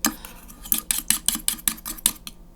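A small whisk beats oil and water together in a small container, making about ten quick, close clicking strokes in a steady rhythm, each a short metallic tap. Nobody speaks.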